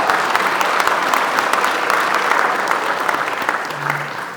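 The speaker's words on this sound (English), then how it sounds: "Give them a round of applause." Broad, sustained applause from a dinner audience at a Hancock County Lincoln Day Dinner, honoring the county chairman and her committee, steady and full before tapering slightly at the end.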